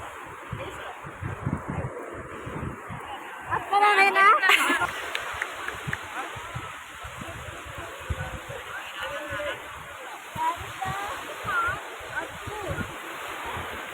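Surf at a beach where the water has pulled far back, heard as a steady washing roar with wind buffeting the microphone, while several people talk nearby throughout.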